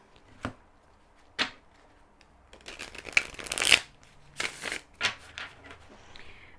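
Tarot cards shuffled by hand for a pick-a-card reading: crisp riffling bursts and soft card slaps, sparse at first, then a dense flurry of rapid riffles, closing with a few separate snaps, close and clear with no talking.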